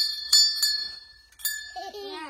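A bell on a vehicle is rung in two quick bright strikes and then a third, each ringing out with a clear metallic tone that fades, followed by someone speaking.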